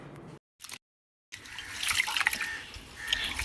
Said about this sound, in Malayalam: ഈ സമയത്ത് നമുക്ക് റൈസ് കഴുകിയെടുക്കാം